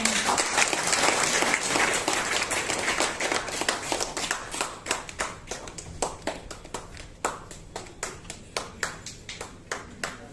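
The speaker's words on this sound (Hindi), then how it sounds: "तालियां बजाते हैं" A crowd at a birthday celebration bursts into sustained applause that gradually thins into scattered, individual claps toward the end, heard without talk.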